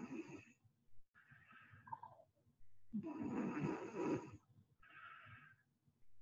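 A five-year-old boy snores in his sleep on a played recording, giving rough, rasping breaths in irregular bursts separated by pauses, moderately loud with no talk over them.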